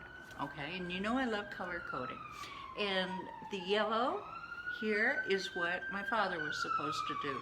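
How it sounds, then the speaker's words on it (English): Police siren wailing outside, a steady rising-and-falling tone running through the whole stretch, moderately distant, under someone talking close to the microphone. "Sorry about the sirens."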